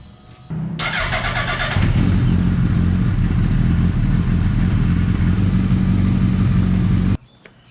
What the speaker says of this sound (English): So what I'm gonna do now is I'm gonna start the bike for 3 minutes